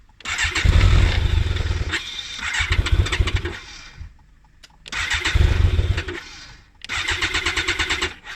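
A BMW K1200 motorcycle engine cranks and catches in bursts, revving up loudly, dying back, then firing again several times, close by and throaty.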